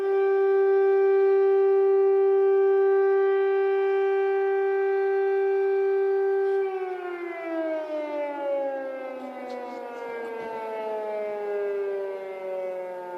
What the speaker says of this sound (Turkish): Kiev'de yeniden siren sesleri duyulmaya başlandı